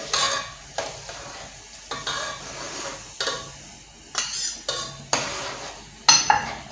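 Crayfish and protein going into a Nigerian mixed okro soup pot, with repeated clinks and stirring scrapes against the pot over a soft simmering sizzle, several spaced knocks close by.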